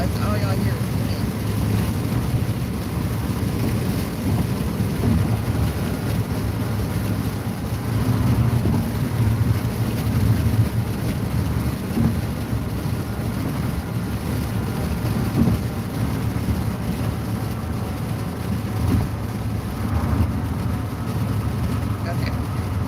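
Steady roaring wind buffets through an open car window while driving, a constant loud rushing that masks much of a person's voice as they talk over it throughout.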